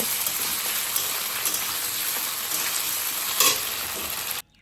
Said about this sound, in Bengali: এবার আলুগুলো আস্তে আস্তে ভেজে নেব